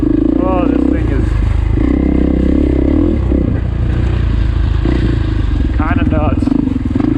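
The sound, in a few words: KTM or Husqvarna dirt bike engine while riding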